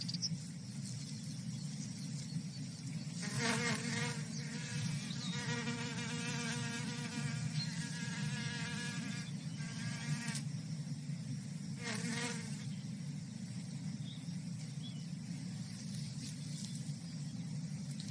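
A male wasp buzzes at a bee orchid while trying to mate with the flower. Close, steady insect drone rises into louder bursts of wingbeats several times, with no talking.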